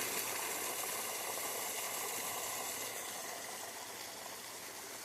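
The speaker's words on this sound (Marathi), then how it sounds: "पाण्याचा डिस्चार्ज आहे तो असा आहे, थोडासा कमी वाटतोय" Water gushes steadily from a 2.5-inch pipe fed by a 7.5 hp solar pump into a large pit, a constant broadband rushing splash heard close and alone, easing slightly toward the end.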